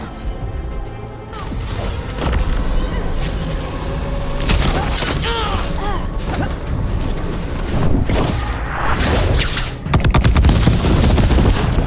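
Combat in the game Shadows of Minrathous: a long, dense stretch of gunfire-like blasts, crashes and impacts, loud and continuous, with a short lull before a final heavy burst.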